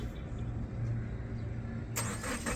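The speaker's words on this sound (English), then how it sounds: "that car just started up." A Subaru Forester's engine starting remotely from its key fob, a faint low idle that suddenly gives way to a brighter, louder burst of cranking and catching near the end.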